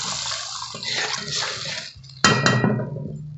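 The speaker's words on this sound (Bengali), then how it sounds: "আমি এবার জল দিয়ে দেবো।" Water poured into frying spice paste for rui fish posto, a bubbling, liquid sizzle that dips briefly and then bursts into a louder splash and hiss as more water hits the hot pan.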